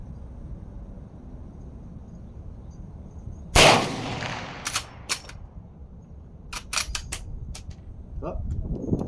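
A Smith and Wesson 1854 .44 magnum lever-action rifle fires one loud sharp shot outdoors, followed by a rattle of metallic lever-cocking clicks and clacks.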